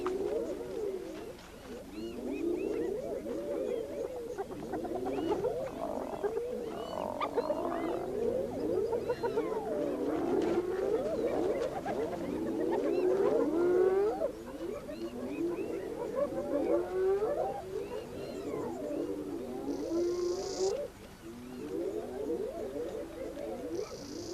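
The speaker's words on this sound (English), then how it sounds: "They intimidate each other with their eerie battle cries." Rival spotted hyena clans in the Serengeti trade eerie battle cries over territory and wildebeest, a dense chorus of rising and falling whoops and wavering calls that overlap continuously at moderate distance.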